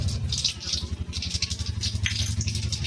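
Dried chili and nigella seeds hit hot cooking oil, giving a steady, close crackling sizzle with busy spattering patter over a low hum.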